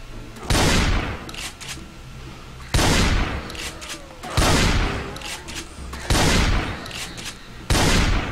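Shotgun blasts in the video game Project Zomboid, five loud booming shots spaced about every one and a half seconds, each trailing into a short echo, close and clear.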